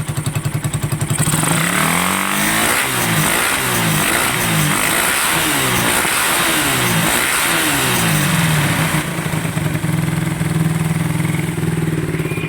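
A motorcycle engine idles loudly, then revs repeatedly in rising and falling bursts through a raspy, loud exhaust before settling back to a steady idle.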